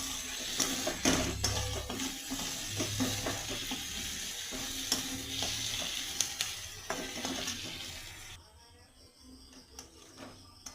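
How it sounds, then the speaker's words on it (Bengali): Chopped tomatoes sauté in a pan, stirred for a chicken chow mein preparation. A continuous sizzle carries repeated spatula scrapes and knocks, then drops to a quieter hiss near the end. "এবার একটু কষিয়ে নিচ্ছি ভালো করে"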